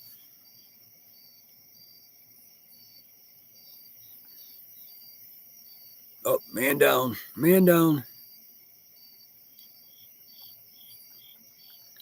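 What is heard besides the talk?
crickets chirping outdoors in southwestern Pennsylvania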